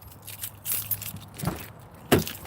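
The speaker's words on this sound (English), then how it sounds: "I got the keys." Car keys jangle in brief metallic bursts before starting an older car, with a few sharp clinks and a louder shake near the end, close to the microphone with no talking.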